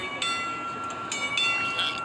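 A BNSF train passes a railroad crossing with wigwag signals, a steady broadband rumble and hiss with faint high tonal ringing throughout, fairly distant and continuous.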